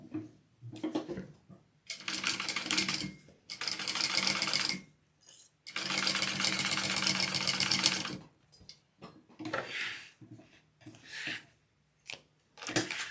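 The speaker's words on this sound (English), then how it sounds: "And I'm going to sew along that." Sewing machine running in several bursts of steady stitching with short pauses, stitching the outer connector seam of a crescent crossbody bag; close, clear mechanical whirring with no talk.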